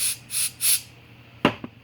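WD-40 sprayed into a generator that won't start: three short hissing aerosol bursts in a steady rhythm, close and clear, then two brief knocks of handling.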